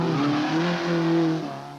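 Rally car cornering under braking on a special stage, a loud close engine note sweeping steadily with tire noise, heard alone for under two seconds.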